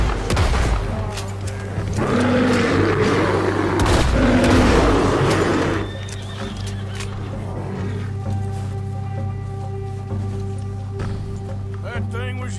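Gunfire rings out in the video game Red Dead Redemption 2, aimed at a large animal during a spring storm: a rapid volley of booming shots up close, then a low rumbling background with a faint musical drone.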